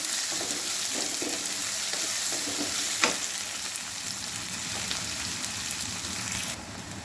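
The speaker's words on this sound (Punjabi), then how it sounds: "ਬਾਅਦ ਅਸੀਂ ਪਾਵਾਂਗੇ ਇਹਦੇ ਵਿੱਚ ਆਪਣੇ ਕੱਟੇ ਹੋਏ ਬਰੀਕ ਪਿਆਜ਼ ਤੇ ਅਦਰਕ ਬਸ ਇਹਨੂੰ ਇਦਾਂ ਹਲਾਉਂਦੇ ਹੋਏ ਬਰਾਊਨ ਕਰ ਲਾਂਗੇ" Finely chopped onion and ginger sizzle steadily in hot oil in a pan, a continuous close frying hiss broken by the scrape and knock of a spoon stirring, with one sharper tap partway through.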